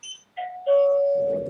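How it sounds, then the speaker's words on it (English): Pressing the bell button on a Mobotix T26 door station sets off a clear electronic chime: a short high tone, a pause, then a second tone held for about a second, loud and close with nothing else audible. "I push the bell button,"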